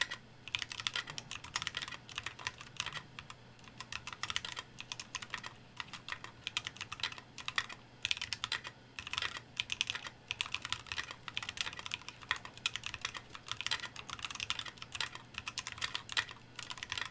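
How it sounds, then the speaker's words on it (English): A mechanical keyboard with Texie ice candy switches, a PC plate, a PC top and a brass bottom is typed on at a fast, steady pace, a continuous stream of crisp close clacks with no talking. "Here we go, 50 word typing test."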